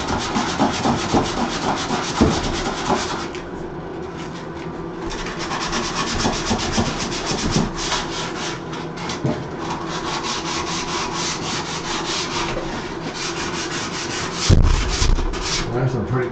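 Sanding wood during bathroom construction, a continuous close, gritty rubbing with a steady rhythmic texture that runs almost unbroken, plus a brief knock near the end.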